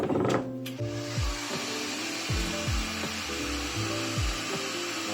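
Heat gun warming a roller skate boot for thermoforming, a steady blowing whir with low thumps and shifting hum as it moves around the boot, no one speaking.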